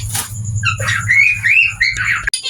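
Gouldian finches in a breeding cage give close, busy chirps and whistled calls during capture, with rustling, a steady low hum underneath and a sharp knock near the end.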